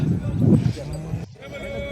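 Native calves at a cattle market bleat close by with a loud, drawn-out cry, then fainter calls follow while someone talks over them.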